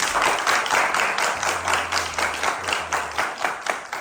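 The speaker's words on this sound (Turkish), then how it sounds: "Şöyle gelin hanıma güçlü bir alkış istiyorum." A wedding crowd claps for the bride at a civil marriage ceremony, a steady rhythmic beat of hands at moderate distance over a faint low hum, with no talking.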